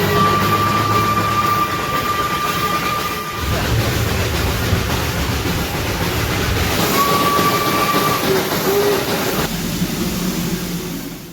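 The Darjeeling toy train runs near Ghum and the Batasia loop: a loud, continuous rumble of wheels and carriages with steady clatter, and a whistle sounding twice.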